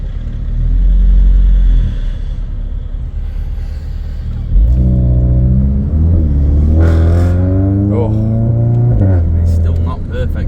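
A stage 2 tuned VW Golf Mk8 GTI with its OPF/GPF removed revs hard from close range in repeated surges, engine pitch rising and falling, with people talking over it.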